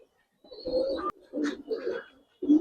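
Budapest high flyer pigeons coo inside a loft in several soft, throaty bursts separated by short pauses, close by and moderately loud, with a faint chirp in the background.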